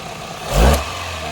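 A healthy car engine is snapped open at the throttle during a vacuum test, giving one quick, loud rev that swells and falls back to a steady idle within about a second.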